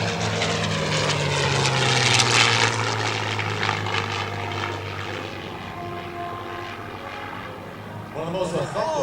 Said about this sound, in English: The P-51D Mustang, the most numerous produced of the P-51 line